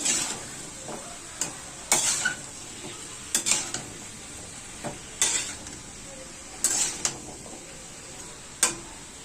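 Pumpkin fry with chili powder stirred in a pan over a medium flame: irregular scraping and clacking of a spatula against the pan over a low sizzle, with no voices.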